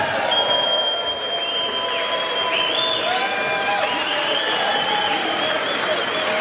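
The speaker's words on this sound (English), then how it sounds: "They're cheering." Members in the House of Representatives applaud and cheer after a bill passes, giving a steady roar of clapping with whoops and shouts throughout.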